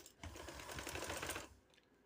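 Domestic sewing machine running a steady burst of rapid stitching on trouser fabric for about one and a quarter seconds, close and fairly loud, then stopping into quiet room tone.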